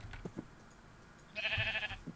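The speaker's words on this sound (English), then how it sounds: "I would like a little sheep, please." A single sheep bleat in a video game rings out near the end, a short wavering cry over a quiet background with faint thumps before it.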